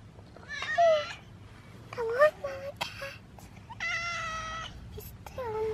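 A cat meows several times with pauses between calls, fairly quiet against a low steady background hum.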